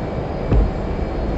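An F/A-18C Hornet jet in DCS World roars steadily on takeoff, a loud, even engine rumble with one brief low thump partway through.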